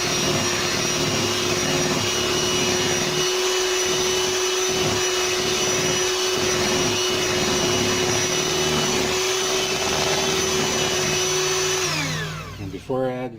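An electric mixer beating an egg into cherry cheesecake batter, a loud, steady whine with a churning, slightly rhythmic chug underneath, running continuously before winding down at the end.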